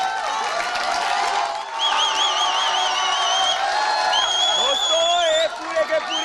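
Large crowd of young people packed around at a live outdoor event, a dense steady murmur of many voices with scattered whoops and whistles rising above it, close and continuous throughout.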